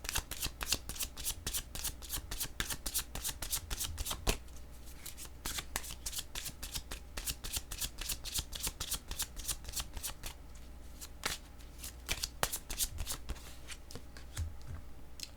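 Oracle cards being shuffled and drawn by hand, a rapid, close, crisp riffling of card edges in dense bursts with short pauses and no voice.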